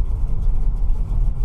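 A 1968 Camaro's big-block 396 V8 of nearly seven litres rumbles close by, a deep, loud, steady throbbing idle right after starting, with no talk over it.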